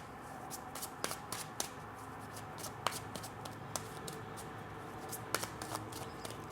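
A deck of tarot cards is shuffled by hand close up, a series of quick riffling bursts and sharp card snaps repeating irregularly over a quiet room.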